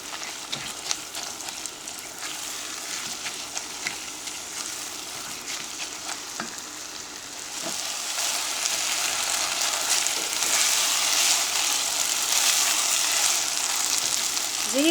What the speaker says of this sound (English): we're going to stir up the rice in the oil